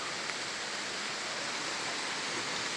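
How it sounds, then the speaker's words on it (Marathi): Water in an irrigation canal feeding farm fields rushes steadily, a dense continuous broadband wash heard close up with no other sounds. "हे पाटाचं पाणी येतं इकडे शेतीला आहे"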